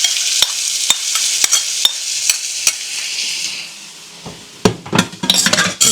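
Beef returned to a pan and stirred, with sharp scraping stir strokes over a bright sizzle that fades, followed by clattering pan and utensil knocks near the end.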